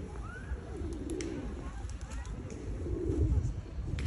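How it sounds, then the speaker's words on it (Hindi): Pigeons coo in low, soft, throaty bursts in Alexandra Park, Manchester, over a murmur of outdoor background noise, with some distant voices. "ये देखें कि कबूतर कितने हैं।"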